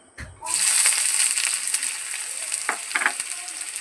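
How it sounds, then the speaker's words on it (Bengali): Chopped onions hit hot oil and a loud, bright sizzle bursts in after a short pause, then hisses on steadily with faint stirring. "তেলটা আমার গরম হয়ে গেছে, আমি পেঁয়াজ দিয়ে দেবো, কেটে রাখা পেঁয়াজ দিয়ে দেবো।"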